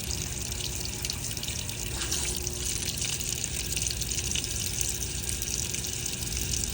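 Whirlpool washer filling with water in test mode: a steady, fairly loud rush of water pouring into the drum, continuous and even for the whole stretch with no voices.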